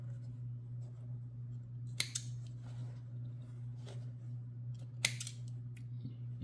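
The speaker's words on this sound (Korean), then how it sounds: "뜯어 주겠습니다. 이거 쪽가위로." Small thread snips cut out stitches in fabric, giving two sharp close clicks a few seconds apart with faint fabric rustling over a steady low hum.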